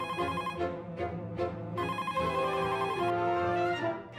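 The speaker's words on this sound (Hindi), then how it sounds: "रुको रुको, मैं सोनू को फोन पे बता देता हूँ।" A telephone rings in a scene from the sitcom Taarak Mehta Ka Ooltah Chashmah: a repeated electronic ringtone melody in short bursts, clear and prominent, with no talking over it.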